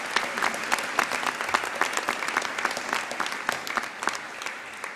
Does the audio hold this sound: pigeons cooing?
no